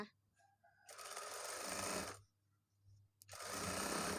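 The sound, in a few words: sewing machine stitching a side seam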